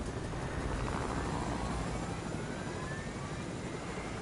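A helicopter in the Fortnite video game gives off a steady, loud whirring roar of rotor and engine noise that holds at an even level for the whole stretch, with no talking over it.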